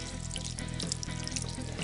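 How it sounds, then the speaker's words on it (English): Warm water poured into a cast iron skillet at a sink, a continuous soft splashing and trickling stream heard close and steady. "I'm going to pour some warm water in here"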